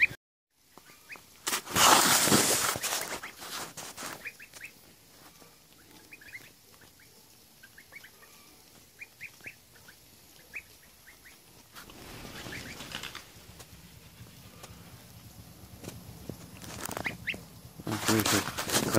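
Goslings peep with many thin, high chirps scattered across the scene, broken by bursts of rustling and flapping near the start and end, with faint occasional talk.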